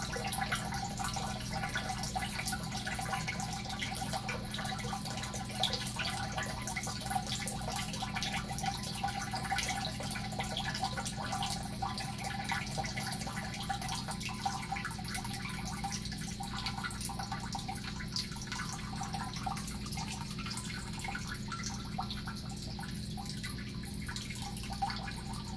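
A steady, faint trickle of water drains through a weak siphon, a continuous soft dripping and gurgling wash with no voices.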